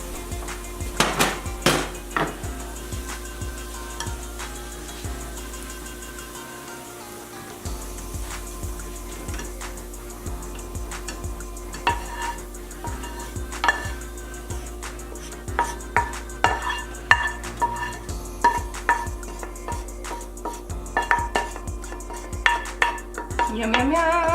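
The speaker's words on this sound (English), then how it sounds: "we're going to drain these into that bowl because we want to reserve both the oil and the shallots" Fried shallots and oil drained through a metal sieve into a bowl, with repeated close clinks, taps and scrapes of metal on metal that grow busier toward the end.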